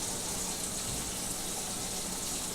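Tap water gushing steadily through a colander of rice during rinsing, a loud continuous broadband rush with no voices.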